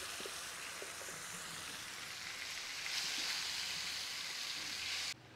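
Chutney frying in a pan on a medium-low flame, a steady broadband sizzle heard close up with faint stirring taps, cutting off abruptly near the end.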